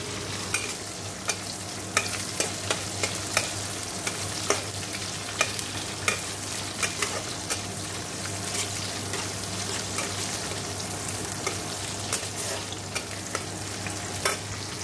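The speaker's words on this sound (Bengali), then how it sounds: "গোটা গরম মশলা জিরে শুকনো লঙ্কা ফোড়ন দিয়ে পেঁয়াজ ভাজা হচ্ছে" Onions fry and sizzle in hot oil with whole garam masala, cumin and dried chillies while a spoon stirs steadily, its scrapes clicking in a regular rhythm over a constant close sizzle, with no talk.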